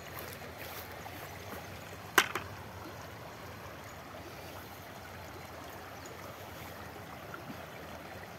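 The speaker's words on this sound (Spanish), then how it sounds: "Pase el río, compañera." A river flows in a steady soft rush heard from a short distance, with one sharp knock or splash about two seconds in and no voices.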